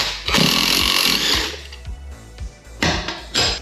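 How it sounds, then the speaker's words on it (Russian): An impact wrench loosens a shock absorber nut on a Vespa GTS 250 scooter, giving one long, loud rattling burst followed by a few short clicks and two brief hammering bursts, close up and alone. "Ладно, прибегнем к помощи гайковерта."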